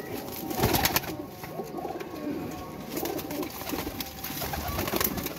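Flying pigeons coo continuously in a low, throaty murmur, several birds overlapping at close range with occasional wing flutters and soft rustling.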